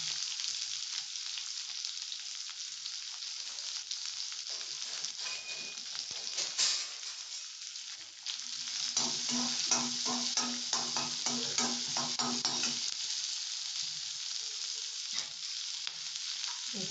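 Onions fry in hot oil with mustard seeds and cumin, giving a steady, soft sizzle throughout. Stirring adds scraping and crackling bursts partway through.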